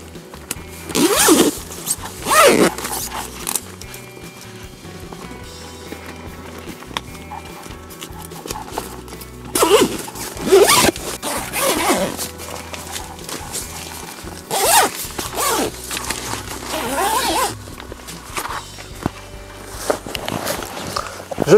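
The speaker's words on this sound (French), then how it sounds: "Cette fermeture éclair se fixe au fond du bivy comme ceci." Zipper on the groundsheet of a Prologic Spider Trio bivvy being pulled, several loud rasping zip strokes in separate bursts over steady low background noise, with no voices.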